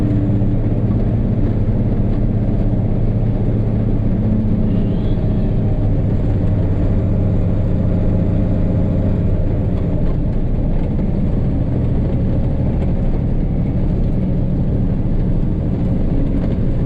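An International DT466 diesel truck engine runs at low RPM with a loud, steady, deep drone and rumble, heard close and continuous without pause.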